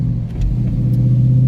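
A car engine, just started after its catalytic converters were cleaned, idles and revs with a steady low rumble, close and alone with no talk.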